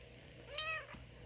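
A single small, high-pitched kitten meow, short and fairly faint, over quiet background hum.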